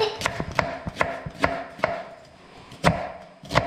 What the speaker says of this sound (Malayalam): ഉള്ളി പൊളിക്കാട്ടോ ഒരു മിനിറ്റ്